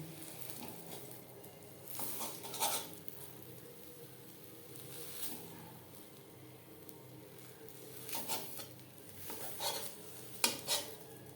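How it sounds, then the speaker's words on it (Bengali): Metal spatula chopping and breaking a cooked egg omelette into small pieces in a pan, giving irregular scraping clinks and taps over a soft background hiss, with sharper clusters of strikes near the end. "এইভাবে খুন্তির সাহায্যে একটু টুকরো করে নেব।"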